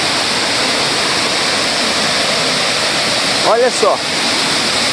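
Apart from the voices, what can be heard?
waterfall, Cachoeira do Prata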